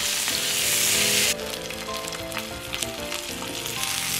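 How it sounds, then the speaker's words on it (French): Meat sears in an oversized frying pan with a little added oil while it is turned to brown every side. A loud, dense sizzle fills the first second or so, then drops to a softer crackle under light tonal music. "On la retourne sur toutes les faces pour qu'elle grille de partout."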